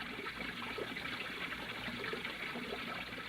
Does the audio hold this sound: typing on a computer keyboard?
no